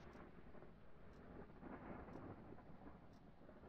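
Rain in a ghost-hunting video game, a steady, very faint hiss with low rumbling, continuous and soft with no other sounds standing out.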